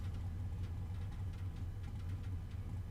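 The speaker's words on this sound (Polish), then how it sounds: "Silnik ma odgłos jak czołg." Car engine idling in the racing video game Need for Speed: Most Wanted, a steady low rumble with faint texture above it, continuous and moderately quiet.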